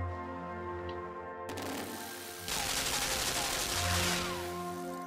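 Cannon fire in the side-scrolling game Limbo, a sudden sharp blast followed by a dense, noisy rumble of repeated shots over a steady musical drone, with a second louder burst a second later.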